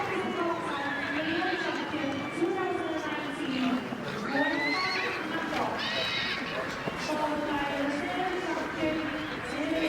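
Stallion at a show ring, with one horse's whinny rising clearly over a steady crowd murmur and voices talking nearby, plus faint hoof movement throughout.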